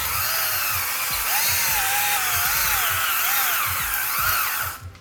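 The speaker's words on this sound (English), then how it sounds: "And now it's a matter of just diving in and honing it." A cordless drill whines continuously while a hone grinds and scrapes rhythmically inside a metal engine cylinder bore, loud and close, winding down at the end.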